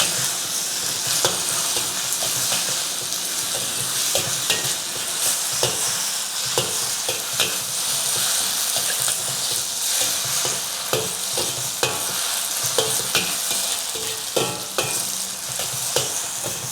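Beef hor fun noodles with ginger and spring onion are stir-fried in a very hot, well-oiled wok, giving a loud constant sizzle broken by repeated scraping and tossing clatters of the spatula.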